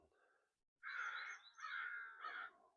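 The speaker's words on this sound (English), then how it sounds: "the sounds of the birds out here this morning" Crows cawing outdoors in the morning, a run of three harsh, fairly close caws following a faint, softer call, with no talk over them.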